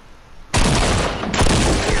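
A new pump shotgun in Fortnite fires twice, each blast sudden and loud after a quiet lead-in, with the second shot landing about a second after the first.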